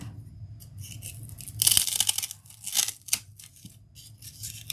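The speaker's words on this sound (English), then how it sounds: "I don't really need it to be this tall, so I might actually go cut a little bit off." Scissors snip through the paper of a handmade Christmas lantern, with several crisp, close cutting strokes and rustling of the paper clustered in the middle, over a low steady background hum.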